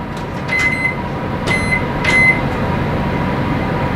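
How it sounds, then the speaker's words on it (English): A microwave oven heating a bowl of beans: a steady low hum with a few beeps and clicks from the keypad and door near the start, then continuous running drone. "Beans, microwave,"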